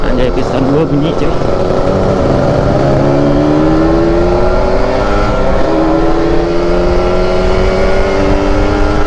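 Kawasaki Ninja motorcycle engine droning while riding on a long road trip, a loud continuous hum with gear-shift pitch rises and wind noise, with a rider talking over it.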